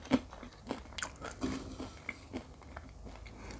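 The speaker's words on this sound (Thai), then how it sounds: "กินกับหอมเจียวเข้ากันมาก" Close, crisp bites and crunchy chewing on a giant oyster topped with fried shallots, eaten with seafood chili dip, arriving as several irregular wet crunches with no talking.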